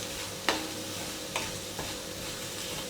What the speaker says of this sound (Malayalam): ഇപ്പോൾ ഞാൻ ഇളക്കുമ്പോൾ ഒരു സൗണ്ട് കേൾക്കാൻ പറ്റുന്നുണ്ടോ എന്ന് ശ്രദ്ധിച്ചോളൂ.